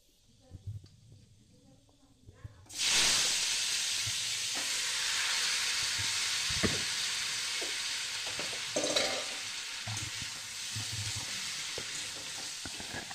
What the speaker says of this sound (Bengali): প্রথমেই তো শুকনো লঙ্কা আর পাঁচফোড়ন ফোড়ন দিয়ে চাটনিটা বসিয়ে দিলাম